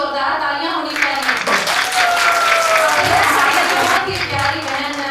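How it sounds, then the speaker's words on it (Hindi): An audience at a Jashan-E-Baharan celebration claps loudly and continuously for the whole stretch, with some voices mixed into the applause. "तो उम्मीद टेलीविजन नेटवर्क के लिए जोरदार तालियां होनी चाहिए"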